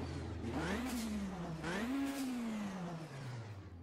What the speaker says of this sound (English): sounds like a 4-cylinder, but we know 4 cylinders with turbo can actually be pretty quick